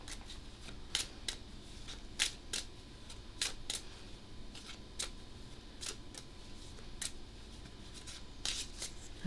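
Cards for the board game Cartographers being shuffled, a run of sharp riffling flicks and snaps at an uneven rhythm, close and fairly quiet against a soft room hum, with no talking.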